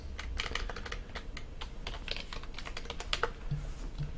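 Rapid, continuous clicking of keys on a computer keyboard, close and even, with steady rhythmic keystrokes throughout and no one speaking.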